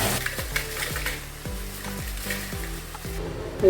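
Spinach deep frying in hot oil for a crispy palak fry, with a bubbling sizzle under rhythmic metallic clinks and scrapes of a ladle against the pan, about one every half second, close and moderately loud.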